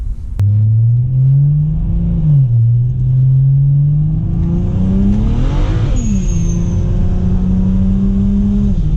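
A BMW 335i single-turbo engine revs hard with a slipping clutch, its loud deep drone wavering and climbing, surging mid-way before settling into a steady high rev, with no voices.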